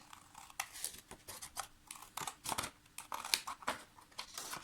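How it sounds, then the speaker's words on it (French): Scissors snip through paper flaps for a photo album in a quick series of short, close, crisp cuts with small rustles between them and no voice. "vous allez venir couper ici les deux parties de rabat, comme ceci"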